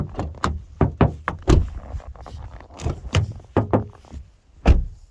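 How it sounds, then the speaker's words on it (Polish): A knuckle raps repeatedly on the hollow door panel of a Toyota RAV4 GR Sport 2.5 AWD-i, a series of close, hollow knocks in uneven rhythm. "chociażby jak pukniemy w drzwi, są one puste w środku"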